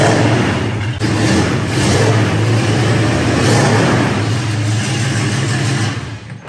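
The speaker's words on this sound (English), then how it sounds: "wanted to make sure you guys can hear that engine run." A 1967 Ford Mustang convertible with a factory A-code V8 and dual exhaust runs indoors, giving a loud, steady, rumbling idle that holds without a break for several seconds.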